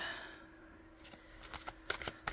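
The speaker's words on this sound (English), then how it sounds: "let's see how we do with an overhand" Soft papery riffling and light slaps of tarot cards being overhand shuffled by hand, quiet and close, growing busier toward the end.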